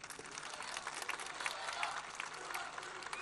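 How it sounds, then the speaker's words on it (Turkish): A crowd at a Bayrampaşa, Istanbul municipal opening rally claps in a steady, fairly faint wash of applause that carries on throughout with no break. "Bir güçlü alkışı da onlar için istiyorum."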